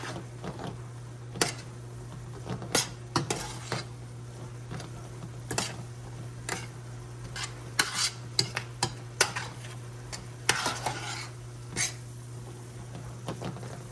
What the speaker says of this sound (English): I'm going to add all my seasonings in there. I'm going to give it a stir.